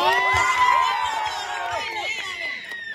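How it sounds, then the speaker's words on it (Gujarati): Crowd at a Gujarati dayro stage event in Tilakwada cheering and shouting to welcome Arunbhai onstage, a dense, continuous wall of voices with whoops and high calls, loud and sustained throughout. "અરુણભાઈ માટે જોરદાર તાળીઓ. આપણે તાળીઓથી એમનું સ્વાગત કરીએ."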